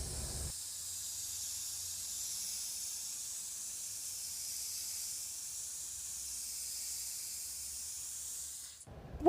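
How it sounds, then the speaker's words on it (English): A spray can hisses steadily for several seconds, close by, while paint is sprayed onto a wooden star made from pallet wood, then stops abruptly. "And then we're gonna spray paint."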